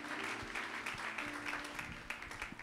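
A church congregation claps steadily to acclaim Jesus during a French-language worship service, a dense, continuous ripple of applause from a crowd with faint voices mixed in.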